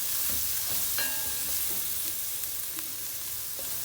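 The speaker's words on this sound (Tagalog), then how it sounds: "A bit of oil, and then we're going to saute this onion first." Onion and garlic sauté in hot oil in a pan, a quiet, steady sizzle with occasional soft clicks and scrapes from stirring.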